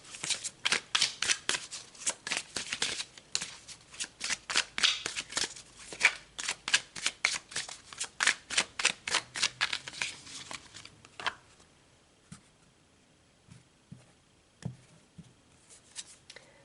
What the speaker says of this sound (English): So let's pull another card for you guys.